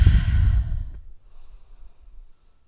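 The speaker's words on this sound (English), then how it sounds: "Breathing." A single strong exhale during a yoga exercise, loud and breathy for about a second before trailing off into quiet room tone, with no talking.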